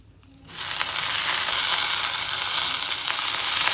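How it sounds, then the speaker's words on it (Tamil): Thuthuvalai leaves dropped into a hot pan and sautéed, an abrupt close sizzle that starts loud and keeps frying steadily, with faint stirring scrapes in it and no talk. "சிம்ல வச்சு ஒரு 2 நிமிஷம் வதக்கிக்கலாம்."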